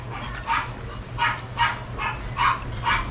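A dog barks in a regular series of six or so close, evenly spaced barks, heard alone with no talk.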